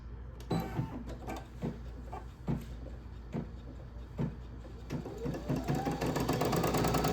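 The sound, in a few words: embroidery machine sewing an applique placement stitch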